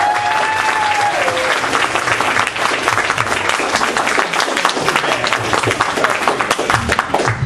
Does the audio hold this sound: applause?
yes